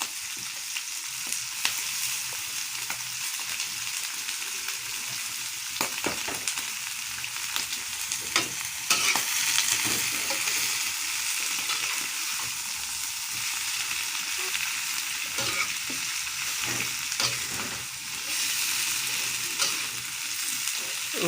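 Long pieces of chicken intestine cook in a pan with yellow spice paste, giving a sustained loud sizzle and hiss, repeatedly broken by scraping stirs and knocks of the spatula against the pan.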